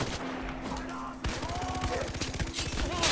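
Enemy gunfire rattles in Far Cry 4 as a fast series of shots under a steady game background, fairly quiet overall, with a voice reacting.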